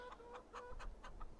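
Chickens in Farming Simulator 22 give a run of rhythmic clucks, about six evenly spaced calls that sound faint and somewhat distant, with no voices over them.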